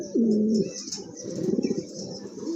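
A large, excitable male pigeon cooing up close in a loft, with a drawn-out opening coo followed by pulsing rolling coos and faint chirps.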